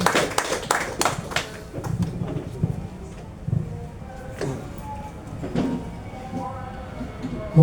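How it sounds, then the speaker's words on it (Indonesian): Clapping from an audience at a literacy motivation event in Tangerang, brisk and close at first, then thinning into scattered, fading claps with some room noise. "tepuk tangan untuk Kang Rahel, Duta Baca Provinsi Banten"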